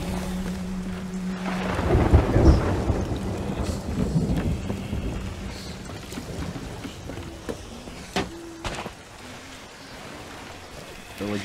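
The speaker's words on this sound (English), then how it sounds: "And we can't move until the storm pass." Thunder rolls out over a rain-lashed sea in Sea of Thieves, one big rumbling peal swelling near the start and fading into a steady hiss of rain and wind, with sharper knocks and faint voices later.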